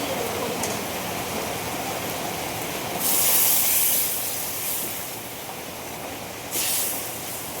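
Fish curry gravy for a bhetki recipe bubbles in a pan, a steady hissing, seething roar with two brief louder surges of bubbling, heard close and with no talking.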